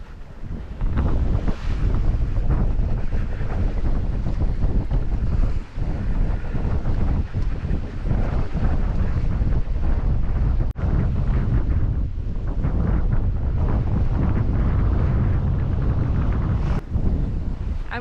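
Strong wind buffets the microphone on a sailboat sailing solo under mainsail only, a steady loud rushing roar with water and waves beneath, no talking.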